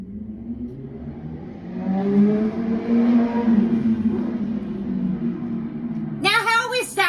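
A loud car revs hard and passes close by, its engine climbing to a peak then receding, with a voice breaking in near the end.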